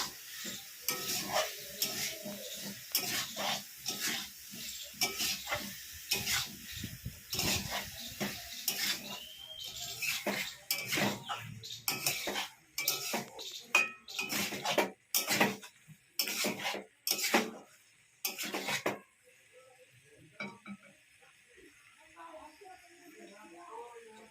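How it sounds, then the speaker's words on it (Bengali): Jackfruit and potato pieces stir-fried in a pan without water, with a low sizzle under repeated sharp spatula scrapes and clatters in an irregular rhythm, then a quieter tail near the end. "এঁচোড় আর আলুর টুকরোগুলো দিয়ে ভালোভাবে 15 মিনিট কষে নিতে হবে।"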